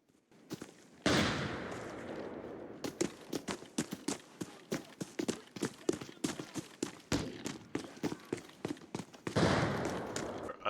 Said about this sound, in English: A lot of nades going off in medical